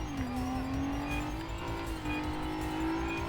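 A car accelerates while swerving through traffic; its engine note climbs steadily and holds loud and close throughout, with no voices.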